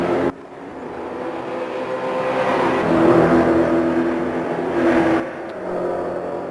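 ESR Aquila race cars at Monza, engines droning loud and close as they pass, pitch rising and falling with throttle, with a sharp cutoff near the end before a lower steady engine tone resumes.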